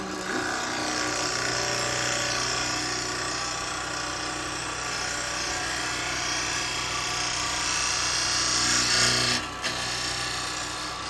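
Wood lathe turning with a negative rake carbide tool, a steady loud whirring motor drone with a broad hiss of cutting, continuous and close with a brief change near the end.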